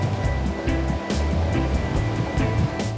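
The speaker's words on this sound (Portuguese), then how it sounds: "temos somente o barulho do vento, das ondas" Ocean waves rolling onto the coast at Tarrafal in Santiago, heard from a kayak with no motor, a steady loud wash of surf and wind with repeated breaking swells and no voices.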